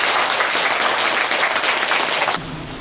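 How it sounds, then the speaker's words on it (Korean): A large congregation at a Buddhist Dharma service applauds loudly to welcome a monk, a dense, sustained roar of clapping that cuts off abruptly near the end. "불자 여러분들께서는 큰 박수로 스님을 환영해 주시기 바랍니다"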